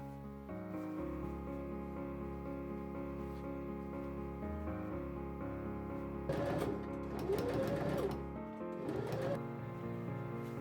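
A sewing machine runs steadily, stitching a waistcoat pocket flap to its pocket bag on an 18th-century-style waistcoat, with a continuous mechanical hum that intensifies briefly near the end.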